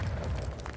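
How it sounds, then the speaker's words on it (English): An explosion in the Animal Well video game, a dense low rumbling burst that fills the whole short moment at moderate loudness without speech. "Ooh, an explosion."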